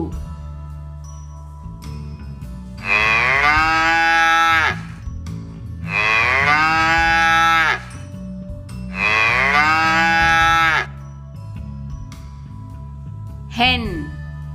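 Three long, loud cow moos with drawn-out, rising-and-falling tones, separated by short pauses, plus a brief fourth call near the end over quiet background music.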